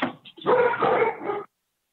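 A dog barks indoors, a short burst of a few quick yips and barks lasting about a second and a half, fairly close, with no talk over it.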